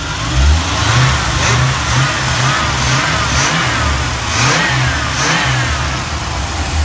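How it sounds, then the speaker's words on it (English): A 1984 Chevrolet Corvette C4 engine idles with a rough, throbbing rhythm, revving up and settling back a few times, close and loud. "Engine runs really nice."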